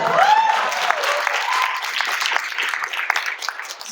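Steady audience applause at a US Senate candidate interview, a continuous dense patter of clapping with a brief voice over the start.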